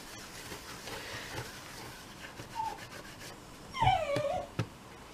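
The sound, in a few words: dog whimpering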